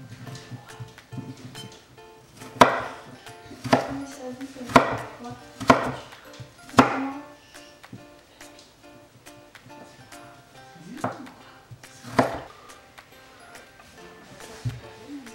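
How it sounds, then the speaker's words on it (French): A knife chops duck breast (magret) into small cubes on a board, striking in a quick cluster of sharp, close cuts, then pausing before a few more scattered strokes against faint background noise. "Je vais pouvoir maintenant les débiter en faisant des petits cubes."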